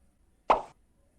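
A toy jellyfish dropped into a bottle of water makes a single short, clear plop against near silence.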